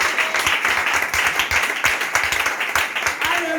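A church congregation applauding, a dense burst of close hand claps with cheering voices mixed in, steady and lively throughout.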